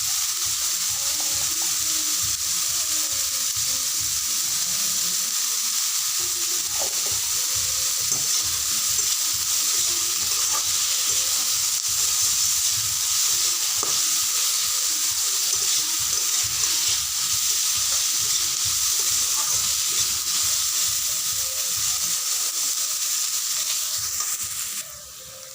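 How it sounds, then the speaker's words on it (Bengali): Onions and carrots fry in a pan for a Maggi egg omelette, giving a steady, close hiss of sizzling oil with faint stirring scrapes throughout, alone without voices. "পেঁয়াজ আর গাজরগুলো ভাজা হয়ে গেছে।"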